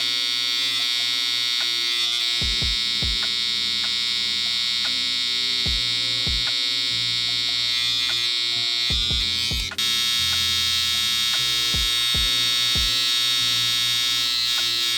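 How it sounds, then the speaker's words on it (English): An electric trimmer grooms eyebrows, a steady close buzzing hum that runs throughout, broken by repeated short taps and clicks as it touches the brow, with no talking. "Now we're going with the trimmer, and with the trimmer you just want to get all the hairs that are like sticking out from the shape."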